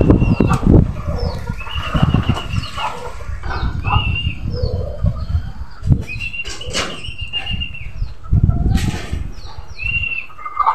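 Racing pigeons returning home to the loft, with bursts of wing flapping and clattering against a busy outdoor background, plus chirpy bird calls and occasional coos nearby.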